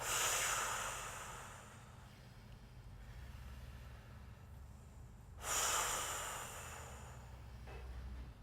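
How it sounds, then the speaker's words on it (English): Two long, soft breaths pushed out through the teeth with a hissing F sound, separated by a quiet pause, close and gentle. "Breathing out in a little F sound."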